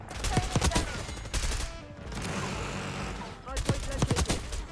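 Rapid bursts of AK74 automatic fire in the Black Ops 6 video game, several clusters of sharp loud shots separated by brief pauses, with game ambience in between.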